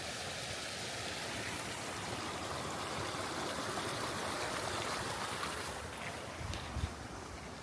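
A small stream in the Scottish countryside flows steadily with a continuous broadband rush of water, close and fairly loud, joined by some wind buffeting on the microphone near the end.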